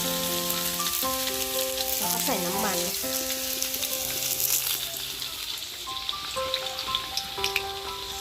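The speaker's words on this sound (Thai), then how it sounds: "ตั้งกระทะให้ร้อนนะคะ ใส่หมูลงไปค่ะ" Sizzling and crackling of pork frying in a hot pan, a continuous hiss with background music playing over it.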